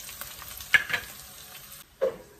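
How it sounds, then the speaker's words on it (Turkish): Meat frying in a pan, a quiet sizzle with a few sharper clinks and stirring sounds standing out from the low background. "Etim çıtır çıtır kavruldu."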